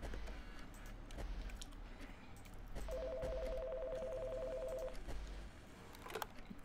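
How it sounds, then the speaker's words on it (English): A telephone rings in the horror video game Five Nights in Anime, a steady electronic two-tone ring lasting about two seconds and standing out clearly over a quiet, low background. "Somebody better pick up that phone."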